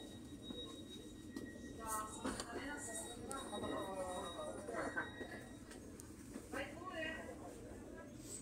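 A train passing in Genoa rumbles steadily with occasional metallic wheel squeals, while people talk nearby throughout.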